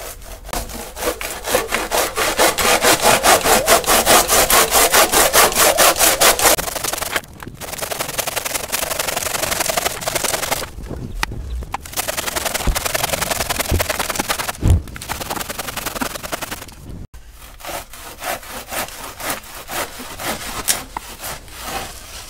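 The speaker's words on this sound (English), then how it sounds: "So this is the handsaw that I'll be using, and I'm just gonna cut off a piece of this block." A handsaw cuts through a dense coconut coir block with a steady, rapid back-and-forth rasp, close and loud, broken by a few short pauses between bursts of strokes.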